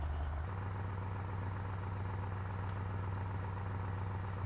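An engine running on a dynamometer, a steady low rumbling drone that shifts pitch slightly near the start, then holds constant and fairly loud with no talk.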